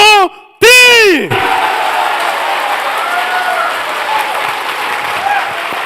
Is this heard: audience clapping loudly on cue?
yes